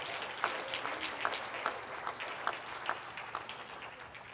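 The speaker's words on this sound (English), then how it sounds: "somebody clap your hands and just give them an apostolic praise" Church congregation clapping their hands in a steady rhythm during a worship service, with a crisp clap landing roughly every half second over the hall's ambience and no voices.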